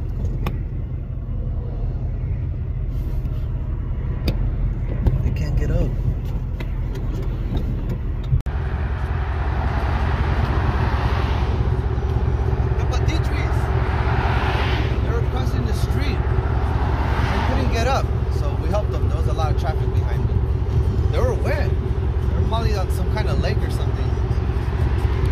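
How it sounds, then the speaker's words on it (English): Cars pass along a street where a duck and her ducklings were crossing, a steady broadband traffic rumble that grows louder and fuller partway through, with vehicles continuing to come by. "and then cars kept coming"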